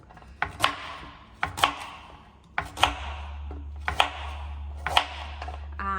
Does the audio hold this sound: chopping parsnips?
yes